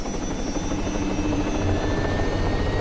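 A helicopter engine in the video game Arma 3 runs with a loud, steady whine and rotor hum that holds constant throughout, with no other sounds.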